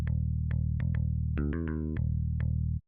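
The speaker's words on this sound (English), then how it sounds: "the classic 80 bass sounds like this" FL Studio's classic 80 bass synth plays alone, clean and undistorted: evenly spaced plucked low notes with a short run of quicker notes in the middle, moderately loud, ending with a sudden stop.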